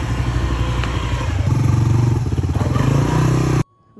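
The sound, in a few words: motorcycle engine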